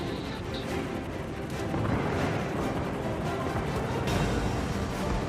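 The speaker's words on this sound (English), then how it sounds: "here comes the defensive fire that says," Defensive anti-aircraft fire from the cruiser Chapayev in a naval battle game against incoming dive bombers, a continuous rumbling barrage of overlapping bursts and pops at steady, loud intensity.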